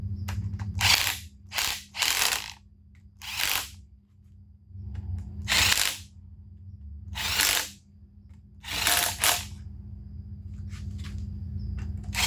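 A ratchet tightens engine bolts on a junk Geo engine being assembled, in repeated bursts of rapid clicking separated by short pauses, close and clear.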